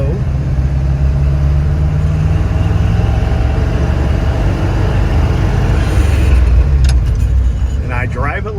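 A Chevrolet K10 truck engine drones loud and close as it drives through its four gears, the low rumble holding steady with shifting pitch from inside the cab, with a voice talking over it.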